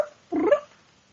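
A person imitates a cat's meow, a single short nasal mewing call of about a quarter second, fairly close and moderately loud against near silence.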